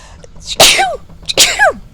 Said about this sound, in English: Okay, I have to sneeze.